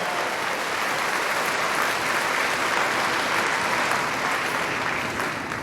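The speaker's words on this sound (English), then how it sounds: "Give a big round of applause." A large crowd at a 2018 high school graduation ceremony breaks into dense, sustained applause that holds steady and loud for several seconds, a continuous wash of many hands clapping with no talking over it.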